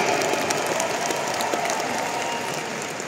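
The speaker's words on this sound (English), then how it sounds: "Can we give our Riway leaders a round of applause today?" Applause from an audience for Riway company leaders, a continuous dense roar of clapping that fades slightly toward the end.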